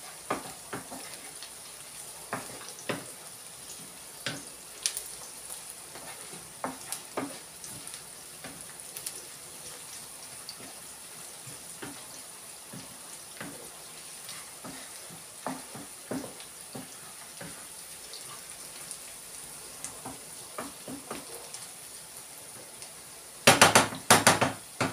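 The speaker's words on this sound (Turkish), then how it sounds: "soğanlarımız güzel bir şekilde kavruldu" Onions fry with red pepper flakes and salt in a pan, a soft steady sizzle running throughout, dotted with light clinks and scrapes of stirring, and a louder burst of clatter near the end, with no talking.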